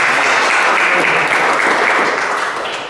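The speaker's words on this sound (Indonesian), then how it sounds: "Kita beri tepuk tangan dulu ya buat Tuhan" A church congregation claps together at a worship service, loud dense applause held steadily before fading slightly at the end.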